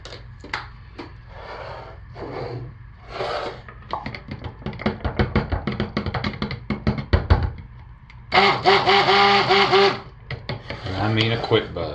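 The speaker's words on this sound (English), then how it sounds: "So let's get our friend the stick blender." A stick blender whirs through soap batter in a loud, bright burst of about two seconds near the end, following clattering knocks and handling noises with some talk.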